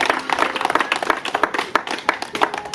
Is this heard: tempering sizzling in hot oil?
no